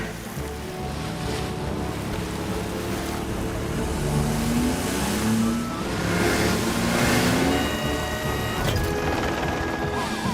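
A cartoon car rolls steadily toward the beach, its continuous engine drone mixed with a broad wash like surf and wind, loud and unbroken, with a rising whine partway through.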